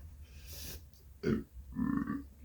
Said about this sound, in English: Apparently peppers make me burp.